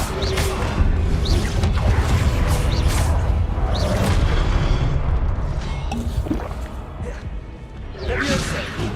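Spell blasts from the Hogwarts Legacy video game, including the Confringo fire spell, burst out as loud booms and whooshing crashes, several in quick succession over a dense, continuous rumble of combat sound.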